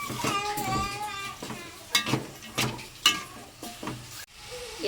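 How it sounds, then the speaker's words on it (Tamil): Grated coconut and onion sauté in a pan for a brinjal thokku, a soft sizzle broken by sharp spoon clinks and scrapes against the pan, with a voice faintly present. "சேர்த்துட்டு நல்லா வதக்கிடலாம் அந்த தேங்காயும் சரி அந்த வெங்காயமும் நல்லா ஒரு கலர் ஆகிற அளவுக்கு வதக்கிடலாம்"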